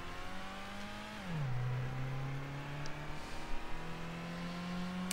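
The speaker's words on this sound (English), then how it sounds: "Maybe revving the bugger will go." A video-game car engine in Gran Turismo holds a steady drone, then drops in pitch and settles before climbing again, a continuous moderate hum with no talk.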